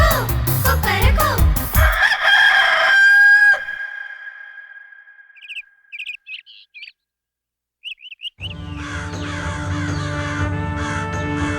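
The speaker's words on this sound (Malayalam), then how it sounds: "കോഴിയെങ്കിൽ കൂവൂലേ, കോഴിയെങ്കിൽ കൂവൂലേ. കൊക്കക്കോ, കൊക്കരക്കോ" A rooster crows once in a long, drawn-out call between bursts of a children's song's music, followed by a few short chirpy calls and a brief silence before the music returns loudly.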